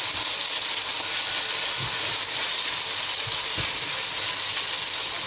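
Ginger paste and crushed garlic sizzle in a hot pan with tomatoes for a mutton curry, a steady loud hiss filling the whole stretch, with a few soft knocks of stirring.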